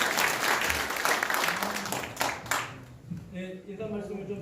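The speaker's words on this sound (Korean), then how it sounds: "모두 함께 박수로 환영해 주시면 감사하겠습니다" Grassroots party members at a local political committee rally clap in a burst of applause that swells and then fades, followed by a speaker's voice over the hall.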